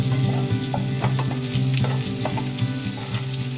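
Butter melting and sizzling in a pan before a beef stir fry, a steady crackling fry with light stirring clicks over a low steady hum, close and fairly loud throughout.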